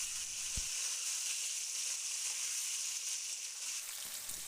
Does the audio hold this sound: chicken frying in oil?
yes